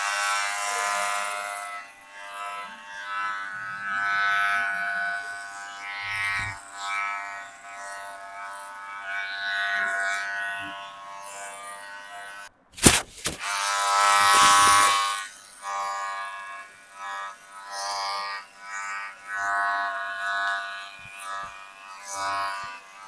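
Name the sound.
electric trimmer trimming a beard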